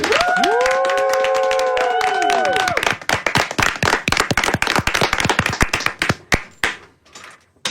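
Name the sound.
applause in radio station master control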